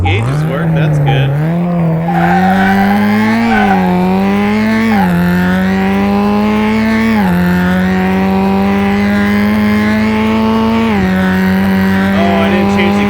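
A Subaru WRX 22B on vintage tires in Car Mechanic Simulator drives hard, its engine loud and continuous, pitch climbing and dropping through repeated gear changes with a steady droning rev.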